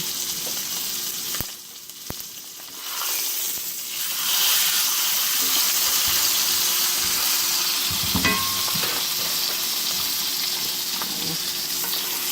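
A T-bone steak fries in butter in a hot pan, a loud continuous hiss and crackle that swells after a brief dip, with a few soft clinks of handling midway, close up.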